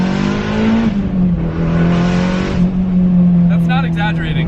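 A Nissan R32 Skyline accelerating hard, its engine droning loud and close with a steady rising pitch from inside the cabin, while passengers talk over the roar.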